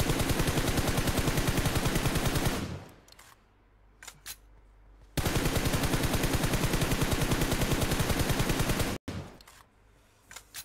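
Rapid automatic rifle spray fire in a mobile battle-royale shooting game, two long sustained bursts of dense, loud shots separated by a short quiet gap with a few isolated taps, no talk over it.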